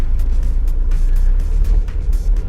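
A race car engine at Thruxton circuit drones loud and close on light throttle, a deep steady roar with quick rising flutters and crackles riding over it throughout.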